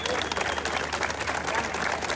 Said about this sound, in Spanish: Compañeros aplaudiendo detrás